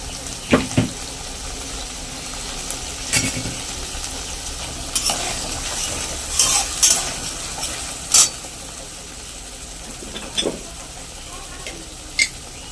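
Spiced water is poured into a hot pan of sizzling pabda fish curry, giving a steady frying hiss broken by sharp splashes and spatula scrapes as the mix is stirred, fairly close, with no talk.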